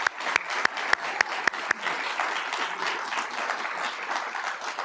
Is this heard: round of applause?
yes